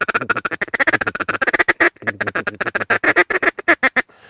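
A rapid, rattling run of mallard feeding chuckle calls, fast repeated clucks in steady bursts with a brief pause midway, close and loud, imitated by a human voice on a duck call.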